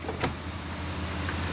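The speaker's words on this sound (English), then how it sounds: "All our windows working." A 2010 Chevrolet Impala's electric power window gives a short whirring motor sweep close by, set against a steady low car hum.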